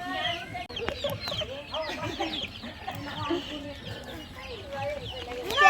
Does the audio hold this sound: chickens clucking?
yes